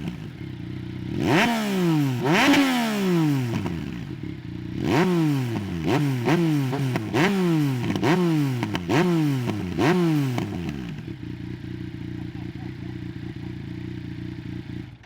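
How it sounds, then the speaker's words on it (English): A 2018 Yamaha MT-09 with a GPR exhaust revs hard several times. Each sharp rising howl falls away with crackles and pops, then a rapid series of blips follows, and a steady idle remains at the end. "here is what the GPR exhaust on the MT-09 sounds like now"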